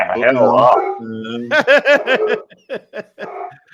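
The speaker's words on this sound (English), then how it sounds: "I'll mute you, Jimmy, just while the dog's barking, buddy." A dog barks in a short run of sharp, voiced yelps, loud and close, with a stretch of talk-like sound just before the barks on a fan forum call.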